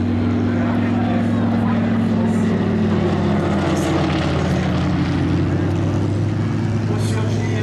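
A propeller airplane flies at an air show at Pontoise, a loud steady engine drone and buzzing propeller hum filling the whole stretch while a commentator speaks in French over it.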